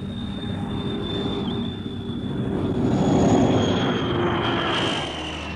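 A Friendship airliner lands at Cork Airport in 1963, its engines a steady droning roar with a thin high whine that swells midway and then eases off, heard from a distance.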